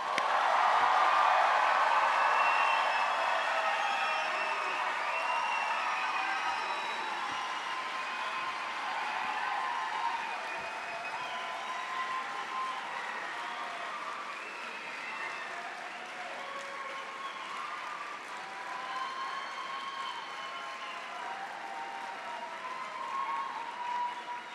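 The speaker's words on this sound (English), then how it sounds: "One more applause." A large audience applauds the College of Medicine Tucson's incoming class at a white coat ceremony, loud sustained clapping that fades slightly and then holds steady, with faint cheers mixed in.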